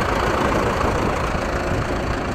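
An Ursus C 360 tractor engine chugs loudly and steadily while the tractor drives, a dense, rough mid-low rumble heard up close with no talk.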